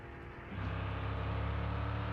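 Truck engine driving in the video game Mon Bazou, a slow vehicle, with a steady low droning hum that swells louder after a brief start and then holds even and close throughout, with no talking.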